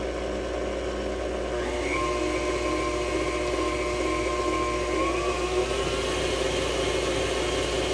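An electric mixer beats flour into an ube cake batter, giving a steady motor hum with a shifting whine that rises slightly partway through. It sounds close and continuous, with no voices.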